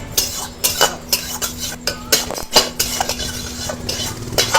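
Metal utensils clatter and bang loudly against pots during cooking, with rapid irregular clinks and scrapes, close and harsh, over a low steady hum.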